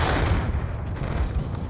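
Sustained gunfire and explosions in the Black Ops 2 team deathmatch video game, a dense continuous barrage of booms and shots close up with no breaks.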